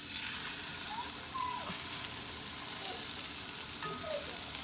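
Salmon fillet frying skin-side down in a pan over medium to medium-high heat, a steady close hiss and sizzle running throughout with faint crackles and no talking.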